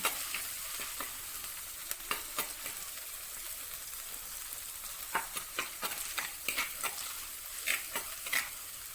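Ginger, garlic and crushed shallots fry in a pan over low heat for a Kerala karimeen fish curry, a soft steady sizzle broken by frequent clicks and scrapes of stirring, close and without talk.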